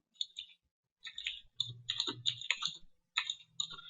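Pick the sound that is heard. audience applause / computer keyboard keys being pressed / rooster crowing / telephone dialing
computer keyboard keys being pressed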